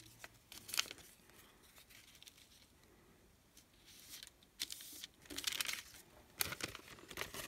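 Paper being cut out for a scrapbook pocket page, with soft crinkles, rustles and scissor snips coming in irregular bursts, quiet and close with no talking.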